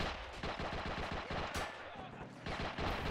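Rapid gunfire and heavy cannon shots from a tank battle between a Sherman and a Chi-Nu in the World War II strategy game Men of War: Assault Squad 2, loud and dense bursts filling the whole stretch.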